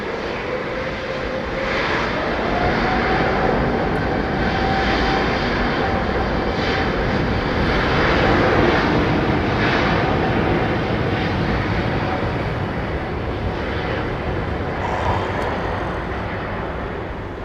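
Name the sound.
Virgin A350 airliner engines at Heathrow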